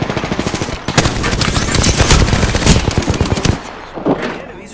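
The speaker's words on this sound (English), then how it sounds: "Enemies are shooting at me." Enemy automatic gunfire in Apex Legends, loud rapid bursts of shots close by with a brief pause and a final short burst, a voice speaking in between.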